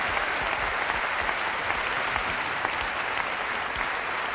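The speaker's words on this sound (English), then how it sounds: "Give him a round of applause." Audience giving a round of applause at a live Derby Day event, dense continuous clapping from a crowd, loud and steady throughout with no voices over it.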